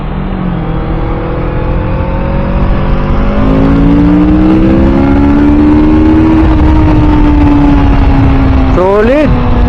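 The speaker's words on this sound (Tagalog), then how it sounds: "So kung maririnig nyo pala, itong motor natin na ginagamit ngayon ay tahimik pa" A Kawasaki Z650RS motorcycle with its stock muffler accelerates hard. The close engine note climbs steadily in pitch through the gears, with a quick rev spike near the end.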